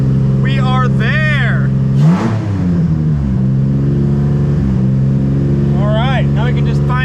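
A nitrous stroker V6 swapped into a Honda Civic idles high around 2,000 RPM, a loud, close, steady engine drone with a brief blip midway, while voices talk over it.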